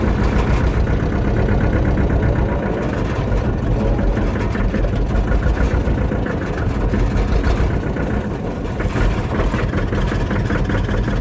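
A Massey tractor engine rumbles steadily and loudly near a beaver dam, a continuous low, heavy drone with no pauses and no talking.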